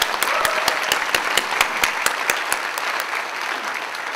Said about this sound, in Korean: 다시 한번 박수로.